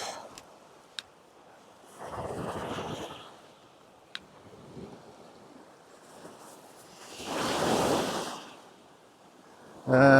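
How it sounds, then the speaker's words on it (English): Waves at No Shoes Beach in Greece, out of season, roll in as two soft swells of surf rising and fading, with light wind on the microphone and a few small clicks between them. "this is No Shoes Beach"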